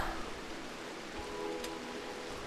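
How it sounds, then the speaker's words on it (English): Steady, soft rainfall from the video game Rimworld makes a continuous hiss with no distinct drops, quiet and even throughout. "once it stops raining"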